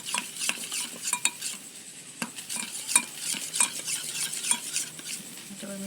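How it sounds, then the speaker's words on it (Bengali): A spoon stirs ground spices with water into a paste in a bowl, making repeated light clinks and scrapes in an uneven rhythm over a soft sizzle from a nearby pan. "এবার আমি মশলাটা জল দিয়ে ভালো করে পেস্ট বানিয়ে নেব।"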